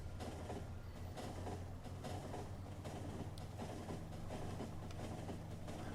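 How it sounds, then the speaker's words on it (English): A Factorio train runs steadily along its rails, giving a continuous low rumble and mechanical clatter that holds at an even, moderate level with no talking. "Let's take the train a bit up first."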